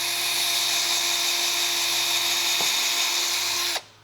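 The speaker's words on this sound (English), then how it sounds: "We're gonna drill those out. And I'm using a 1/4-inch drill on a drill bit." A 1/4-inch power drill bores out plastic chassis rivets on a G82 BMW M4, a steady high-pitched whine held for nearly four seconds before cutting off abruptly.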